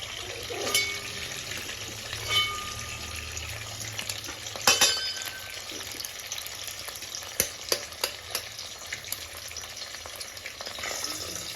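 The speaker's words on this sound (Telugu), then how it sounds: "అదే గిన్నెలో ఇప్పుడు ఆయిల్ యాడ్ చేసుకొని ఎగ్స్ యాడ్ చేసుకోవాలి" Three eggs frying in oil in a pan for home-style noodles, a steady close sizzle throughout with a few sharp crackles and spatters, and no speech.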